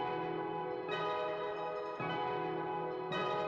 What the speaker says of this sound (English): We have this main one, which is from Omnisphere.